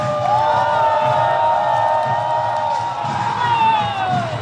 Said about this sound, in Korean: 여러분, 그만두 선수에게 다시 한번 경려의 박수를 부탁드리겠습니다